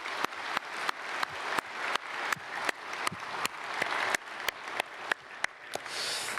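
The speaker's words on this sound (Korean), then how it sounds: "우리 크게 박수로 축복하겠습니다" A church congregation applauds the choir at a Sunday service, with steady, dense clapping that sounds like a moderately distant crowd and carries regular sharp beats all the way through.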